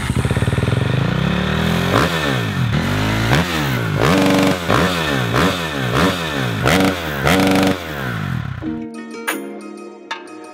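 A dirty motorcycle back from a race event is revved hard and repeatedly, its engine climbing and dropping in about eight rhythmic surges close by before cutting out abruptly, leaving quieter clatter and tones.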